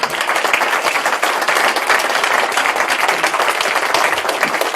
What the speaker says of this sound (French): Il faut vous applaudir.